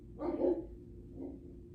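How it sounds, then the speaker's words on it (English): A dog barks indoors: one fairly close bark, then a softer second one about a second later. "Sorry, my dog's barking."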